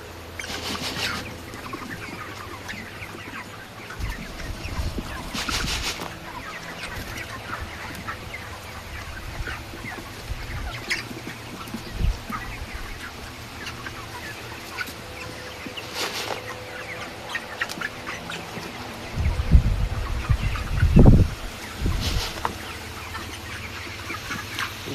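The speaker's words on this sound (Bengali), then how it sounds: "সবগুলো মুরগি কিন্তু শুয়ে রয়েছে" Chickens in a coop cluck and murmur at a moderate distance through a steady background hiss, with scattered calls and a burst of louder, heavy thumps and flapping near the end.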